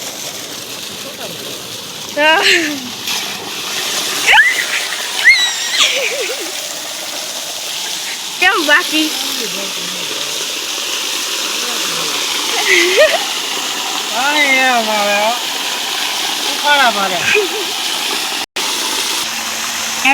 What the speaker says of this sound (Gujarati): મસ્ત પાણી આવે ધોધમાર